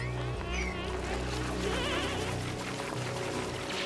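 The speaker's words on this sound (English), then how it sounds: "The salt water is leaking in" Salt water leaking into a base in the game Oxygen Not Included, a continuous pouring and trickling wash with bubbly gurgles over a steady low game hum.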